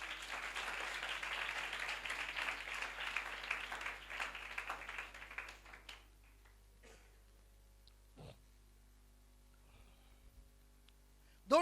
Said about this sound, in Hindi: तालियां बजाएं जरा।